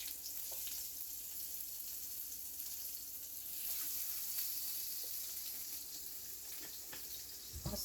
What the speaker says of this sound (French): nous allons passer à la cuisson des crevettes